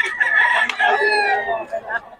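A rooster crows loudly and close, a long drawn-out call, with hens clucking around it at a busy chicken sale in Bocaue.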